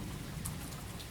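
Gentle rain falls steadily in a soft, even wash of patter with occasional brighter drop sounds, continuous and moderately faint with no voices.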